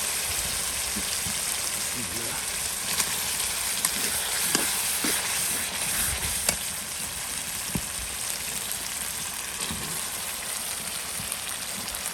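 Meat sizzles steadily in a hot pan while being sautéed with spices, a continuous frying hiss with occasional stirring knocks, up close.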